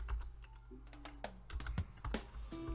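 Typing on a computer keyboard during CAD work, a quiet run of close, irregular key clicks with a few firmer taps, heard alone without any talking.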